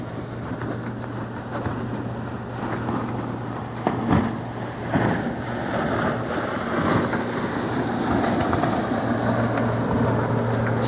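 Engine of a sailboat on a slow passage to Palma running steadily with a constant low hum, under wind buffeting the microphone and water noise, a few brief knocks and clatters, no talking.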